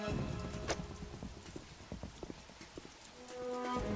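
Heavy rain pours steadily with a dense hiss, dotted with sharp patters and knocks throughout, in the video game Metal Gear Solid 2: Sons of Liberty.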